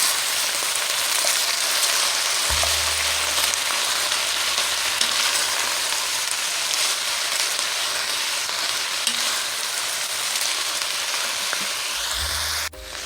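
Cabbage and other vegetables cook in a pot for soup with a loud, continuous sizzle that runs throughout, plus stirring noises and a low hum at times; no voices.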